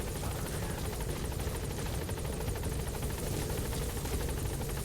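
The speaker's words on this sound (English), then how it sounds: "Support helicopter has arrived." Support helicopter from Metal Gear Solid 5: The Phantom Pain on Xbox, with loud, steady rotor thumping and turbine whine that fills the whole stretch without pause.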